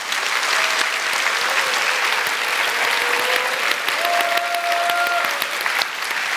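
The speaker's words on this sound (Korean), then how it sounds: "뜨거운 응원의 박수를" Church congregation applauding for the teachers at a Sunday service, a dense steady clatter of many hands filling the room for several seconds, with a faint sustained tone drifting underneath.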